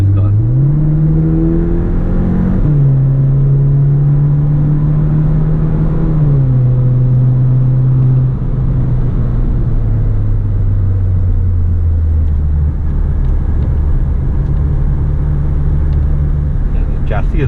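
A Skoda Octavia RS245 on a race track drones loudly from inside the cabin, its engine note climbing through the revs, dropping sharply at gear changes, and then easing down steadily, while someone talks over it.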